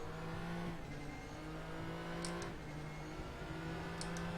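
A Nissan GT-R GT3 race car engine in a racing video game at Bathurst, a steady high engine drone with shifting pitch after a downshift to first gear, running continuously and loud with faint tire noise.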